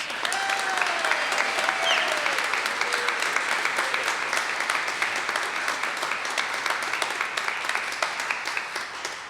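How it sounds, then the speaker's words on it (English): A live theater audience at an old-time radio show recreation gives a long, full round of applause, steady and loud throughout, with a faint whistle or cheer near the start. "And a big round of applause to our special guest, Carl Amari as Phil Harris."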